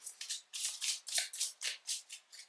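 A deck of cards being shuffled in a steady run of about nine crisp riffling bursts, close and fairly quiet, with no voices.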